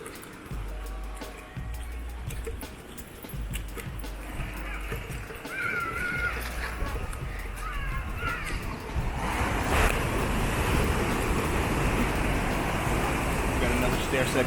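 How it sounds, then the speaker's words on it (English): Ocean waves wash onto a Malibu beach in a broad, roaring surge that grows louder and fuller toward the end, with a voice talking over the surf and a few faint high squeaks. "I don't even know if you can hear me because of the waves."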